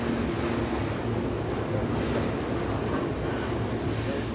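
A Banff gondola cabin glides into the mountaintop station with a steady, loud mechanical rumble and airy whoosh that holds evenly throughout, with no voices.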